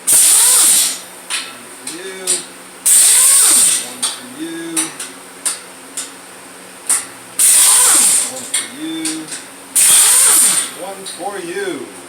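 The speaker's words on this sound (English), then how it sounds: "Let's undo the bolts." Air or power ratchet tools undo bolts on a Jaguar chassis in a garage, with repeated loud hissing bursts and short tool whirs in an irregular rhythm, close up, alongside brief bits of talk.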